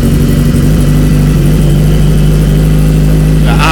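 Aprilia Tuono motorcycle, unstarted for months, idling inside a garage with a steady, loud low rumble throughout and a brief rise in pitch near the end.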